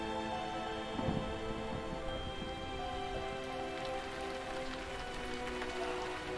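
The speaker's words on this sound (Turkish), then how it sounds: "Yağmur yağıyor" Steady rainfall in the video game Ori and the Blind Forest, a continuous hiss of drops pattering on surfaces with soft tonal game ambience beneath, even and unbroken throughout.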